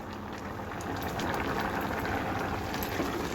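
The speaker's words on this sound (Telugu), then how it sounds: "కిచిడిలో ఉన్న ఈ వాటర్ అంతా దగ్గరికి అయ్యే వరకు ఉడకనివ్వాలి." Khichdi simmers in a covered pot, bubbling continuously with a dense, gurgling hiss that swells slightly after the first second and stays steady and close.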